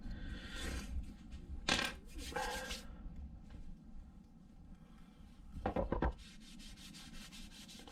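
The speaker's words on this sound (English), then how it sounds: "These tyre levers scrape them off without scratching the seat pin, seat tube" Tyre levers scrape residue off a bicycle seat post in a garage, giving short bursts of gritty rubbing and scratching separated by quieter pauses, close and fairly soft.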